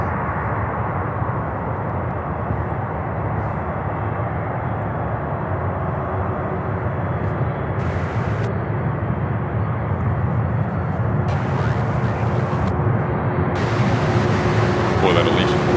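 Jet aircraft taxiing at Louisville International Airport, a steady broadband engine rumble and whine that holds close and constant throughout, with brief bursts of hiss layered on top.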